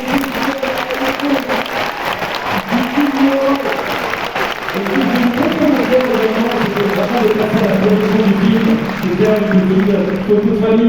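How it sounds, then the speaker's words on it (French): Sustained audience applause at a film presentation of the movie Yoroï at the Grand Rex cinema, a steady wash of clapping with voices and cheers rising above it throughout. "Les amis, s'il vous plaît, vous pouvez applaudir"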